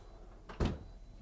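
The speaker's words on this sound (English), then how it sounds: "Dishwasher in a drawer. Now that is going to be a Fisher & Paykel dishwasher." A Fisher & Paykel drawer-style dishwasher in a 2022 Newmar Ventana motorhome slides and bumps shut with one short muffled thud, close by and otherwise quiet.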